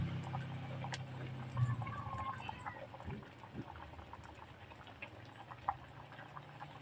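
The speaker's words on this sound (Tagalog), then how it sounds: "kumukulo na siya" Coconut milk broth with tilapia boiling in a pot, giving a soft, continuous bubbling and light patter with a few small ticks, fairly quiet and close, with no one talking.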